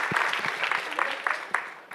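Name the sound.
applause for the pitch judges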